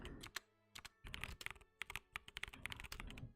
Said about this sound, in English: I want a different keyboard sound